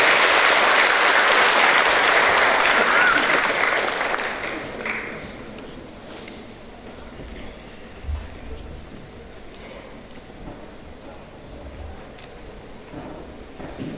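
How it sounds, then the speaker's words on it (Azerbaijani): Audience applause at a pharmacists' conference as a university pharmacy dean is invited to the stage, loud and dense for about four seconds, then fading into quiet hall ambience with a few faint thumps. "Alqışlarınız."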